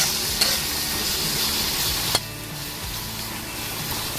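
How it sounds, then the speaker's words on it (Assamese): A fish head fries in oil in a pan for an Assamese bamboo shoot dish, a steady close sizzle throughout with a couple of sharp knocks of stirring, no talk. "এতিয়া মই মাছৰ মাথাটো দি দিছো আৰু এতিয়া অলপ 5 মিনিটমান এনেদৰে ভাজি ল'ম"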